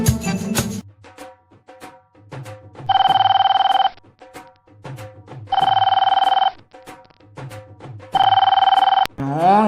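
A telephone rings three times in a steady pattern of long electronic trills separated by pauses, with people talking and household noise underneath during a comedy skit.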